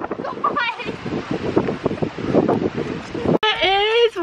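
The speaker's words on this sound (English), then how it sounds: "It is windy." Strong wind buffets the microphone in a steady, rumbling roar, with a voice speaking over it near the end.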